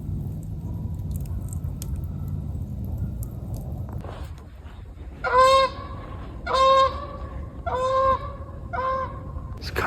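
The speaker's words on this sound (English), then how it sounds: "right when I got that shot of the geese flying over" A flock of geese flying over a campsite at a conservation park, four loud honking bursts arriving in quick succession after a few seconds of quiet outdoor ambience, fairly close overhead.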